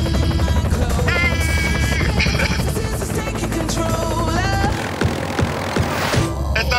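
A helicopter flying with a passenger aboard during a sightseeing flight in Armenia, its dense, steady rotor and engine roar filling the cabin loudly and continuously, with musical tones layered over it.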